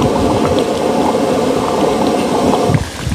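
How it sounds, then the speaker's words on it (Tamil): A pot of brinjal and black chickpea curry boiling on a medium flame, giving a steady, close bubbling and simmering sound with no talk. "இப்போ இது நல்லா கொதித்து வரட்டுங்க. பாருங்கள் கொதி வந்துடுச்சு."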